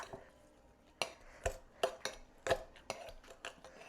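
Cucumber slices muddled in a metal cocktail shaker tin: a series of sharp, clanking knocks at irregular intervals, close and fairly loud, with no talking.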